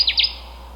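Two quick high chirping bird calls from a secretive rare warbler in a tamarack bog, heard close and clear at the start, then faint background hiss.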